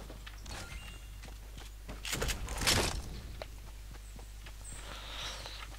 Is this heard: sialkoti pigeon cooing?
no